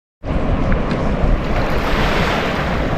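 Ocean surf at a beach during a camping trip, a loud, steady wash of waves mixed with wind buffeting the microphone, with no voices.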